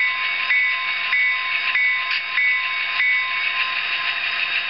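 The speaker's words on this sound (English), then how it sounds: "Now we'll cycle through one, the bell." Locomotive bell from a Tsunami DCC decoder in an Athearn N-scale FP45 model: evenly spaced metallic clangs ringing over a steady hum, heard alone.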